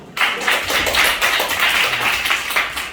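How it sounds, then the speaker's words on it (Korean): Students clap together at a school class-competition orientation, a steady patter of many hands filling the room without pause, close and fairly loud, with faint voices mixed in. "오, 나이스, 박수."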